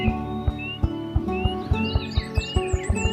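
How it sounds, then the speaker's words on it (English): Several birds sing and trill together at dawn, bright chirps and warbling phrases over the steady rhythmic thumping of a male ruffed grouse drumming in the background. "other unseen birds skillfully contribute their own trills and warbles"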